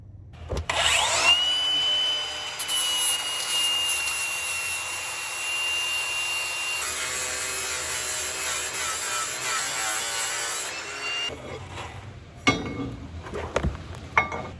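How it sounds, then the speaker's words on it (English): An angle grinder cuts and grinds metal on a Toyota 4Runner, a loud sustained high-pitched whine with shifting pitch as it bites, then stops, followed by a few clanks and handling noises. "Should have probably ground a little bit further back. Grinder again."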